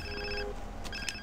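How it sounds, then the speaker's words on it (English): A mobile phone rings in Grand Theft Auto San Andreas, two short electronic trilling bursts separated by a brief gap, clear and close over faint game ambience. "Ooh, another phone call."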